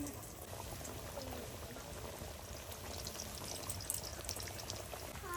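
Chicken pieces deep-frying in a pan of oil, a dense, continuous bubbling sizzle that holds steady throughout, close and moderately loud, with no talking.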